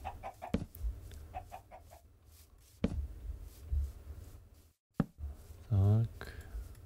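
Video game chickens give a few short clucks, then a louder squawk near the end, mixed with scattered game clicks and someone talking.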